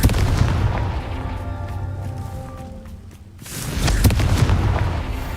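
A Confringo fire spell explodes in the Hogwarts Legacy video game: a loud, booming blast with a long decaying rumble, followed by a second heavy burst.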